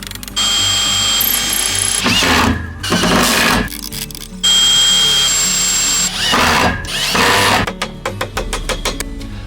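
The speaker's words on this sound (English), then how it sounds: "Drill, drill, screw, screw," A power drill whirs in two long runs, then a screw driver spins and stutters; close, loud bursts with brief pauses between, ending in rapid ratcheting clicks.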